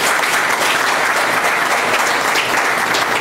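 Sustained applause from an audience during a health minister's visit in Jérémie, steady dense clapping filling the room at close range without a break.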